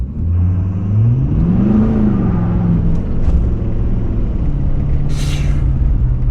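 A vehicle on BFGoodrich KO3 all-terrain tires pulls away on wet, muddy new pavement, its engine rising steadily in pitch under a constant road rumble, with a brief hiss of spray or air near the end.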